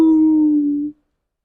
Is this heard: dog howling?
yes